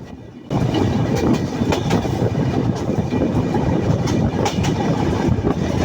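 Jahanabad Express intercity train running on rails at speed through Daulatpur station on the Khulna–Dhaka line, a loud steady rumble with rattling carriage noise and faint clickety-clack throughout, starting after a brief quieter moment.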